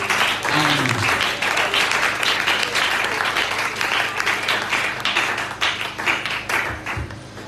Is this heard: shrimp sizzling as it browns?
no